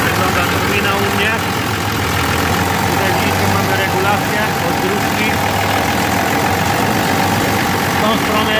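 A Steyr tractor engine idles loudly and steadily nearby with its turbo partly closed so it warms up, a continuous low rumble throughout.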